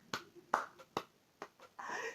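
A small group clapping their hands in a few separate, uneven claps, close and fairly loud, with short gaps between them and a brief burst of clapping at the end.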